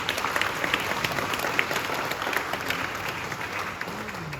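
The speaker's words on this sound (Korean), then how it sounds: "우리 박수로 우리 격려해 드리겠습니다" A church congregation applauds to encourage a member, a steady wash of moderate clapping from many hands lasting several seconds without speech.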